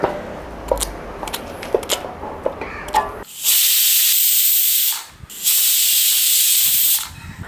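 A pressure cooker on the stove vents steam while tapioca cooks for an Iftar meal, giving two long, loud hissing bursts separated by a short pause, after quieter kitchen clatter.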